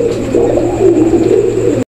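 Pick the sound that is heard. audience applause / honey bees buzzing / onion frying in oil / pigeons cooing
pigeons cooing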